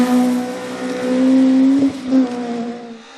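A Vauxhall Nova rally car racing in a 1400 championship stage, its engine droning loud and close with a steady buzzing tone that rises and dips as it revs, with brief gear-change breaks and no talk.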